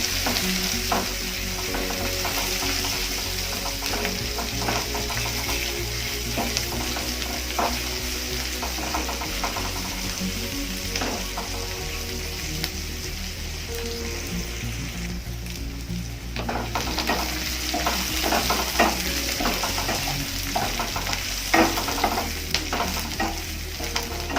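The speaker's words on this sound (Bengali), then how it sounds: "পেঁয়াজটাকে ভালোভাবে ভেজে নিতে হবে।" Onions fry in a pan with a continuous loud sizzle, while a utensil stirs them in repeated scraping strokes close by, the crackle rising and settling throughout.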